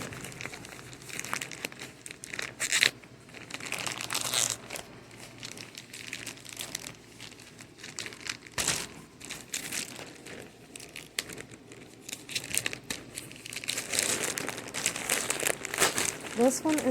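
Crinkly plastic packaging being torn and crushed open by hand, a mailer from a SoCo order, with near, continuous crackling and rustling that comes in bursts, under and between a person talking.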